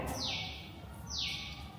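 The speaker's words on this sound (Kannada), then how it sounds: "ಹಕ್ಕಿ ಕೂಗ್ತಾ ಇದೆ." A bird gives two clear, descending whistled calls about a second apart, fairly quiet over a soft background hum.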